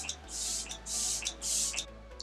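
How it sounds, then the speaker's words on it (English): Three short hissing bursts of makeup setting spray onto skin, close and fairly soft, evenly spaced with brief pauses between them. "I'm just going to spray the rest of my skin again"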